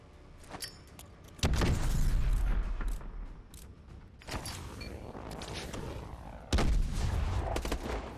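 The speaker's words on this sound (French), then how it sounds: "Activation de l'entraînement aux grenades." Grenade explosions boom through a training exercise in Call of Duty Advanced Warfare: three heavy blasts land a few seconds apart, each with a deep rumbling tail, mixed with lighter crackles of gunfire and clatter.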